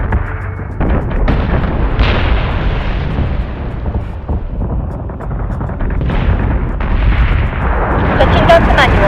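Starship cannons fire in the space combat game Battlestar Galactica Deadlock, a dense continuous barrage of booming, rumbling shots that stays loud throughout with a voice talking beneath it.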